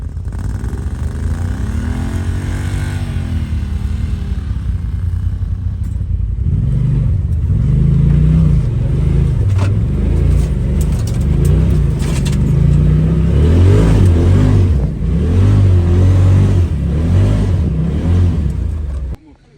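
A car stuck in a ditch revs hard and repeatedly, a loud, close engine roar that rises and falls in surges while people shout over it.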